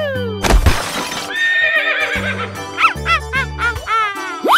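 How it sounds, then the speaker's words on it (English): A horse neighs loudly and close in a cartoon animal game, its whinny rising and falling over a crash, tinkling chimes and a bright synthetic musical backing. "Horse."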